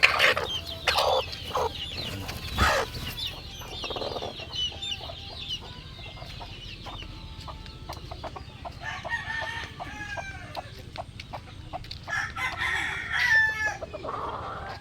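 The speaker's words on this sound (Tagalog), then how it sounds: "Ito yung ating mga first bat. Yung mga sisiw natin." Hens and newly hatched chicks cluck and peep nearby while a rooster crows, the calls overlapping in a busy, continuous backyard chorus with louder bursts throughout.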